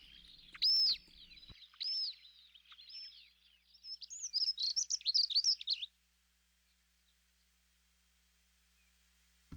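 Several small birds near a nest with chicks give high, clear chirps and tweets, a few separate calls first, then a quicker burst of overlapping chirps, fairly close, before falling silent.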